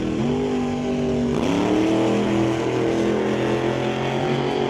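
Old-time drag race cars roar at Mission Raceway Park, with loud, sustained engine drone and rising harmonic revs, a pitch shift midway as the cars accelerate down the strip.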